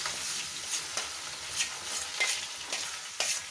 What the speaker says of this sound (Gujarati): હવે આપણે આ જે સોયાવડી છે એ અંદર ફ્રાય કરી દઈશું